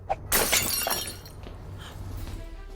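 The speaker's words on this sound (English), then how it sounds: "It's all smashed." Magic mirror glass shatters in a sudden loud crash at the start, with bright breaking fragments ringing out and tinkling debris trailing off over a low hum.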